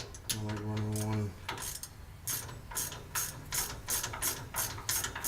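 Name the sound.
tightening bolts on gear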